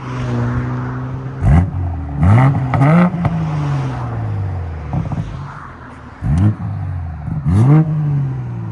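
Straight-piped 2019 BMW X7 with a 3.0L Twinpower inline-six, revved hard several times from idle, each blip rising sharply and falling back to a loud, rumbling idle, close by.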